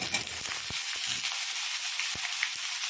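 Eggplant hits a pan of browned onions and fries with a steady hiss, with a few sharp clicks and knocks of a utensil against the pan, and no voices.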